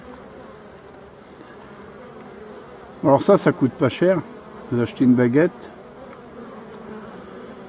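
Honeybees are still foraging at a hive in mid-October, making a steady, close buzzing. Someone speaks over it in short bursts.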